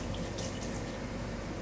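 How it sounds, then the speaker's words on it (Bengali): Water runs steadily from a foot-pedal-operated tap into a washbasin aboard a new Garib Rath train coach, a continuous close splashing stream that lasts throughout with no voices. "এখানে টিপলে তবে জলটা পড়বে এখানে"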